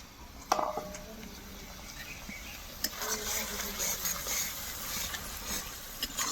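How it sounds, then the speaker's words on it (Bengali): A lid comes off a cooking pot of rohu fish kalia gravy with a sharp metallic clank, then another knock follows over a soft, low simmering hiss. "এবার ঢাকাটা আমি খুলে দেখে নেবো"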